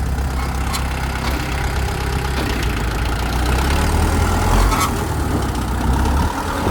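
A Kubota L2602DT four-cylinder tractor engine idles steadily and loudly close by, a continuous low rumbling throb with no talking.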